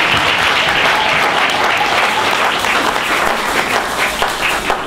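Church congregation applauding a pastor, loud sustained clapping from a large crowd filling the room, steady throughout with no break.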